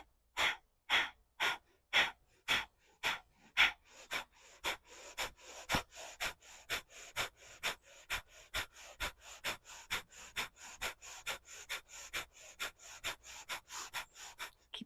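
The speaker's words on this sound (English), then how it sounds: "Breathe in. Empty all the air out. Inhale." Rapid rhythmic breathing during a yoga flow, forceful nasal exhales repeated in a steady fast pulse, strong and close at first and then quicker and slightly softer as it continues, with no spoken words.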